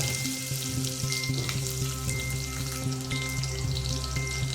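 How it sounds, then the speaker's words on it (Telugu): Thinly sliced onions go into hot tempering oil with cumin seeds and fry with a steady, close sizzle that carries on alone and evenly throughout, with no voices. "మనం ముందుగా సన్నగా ముక్కలుగా చేసుకున్నటువంటి ఆనియన్స్ వేసుకోవాలి"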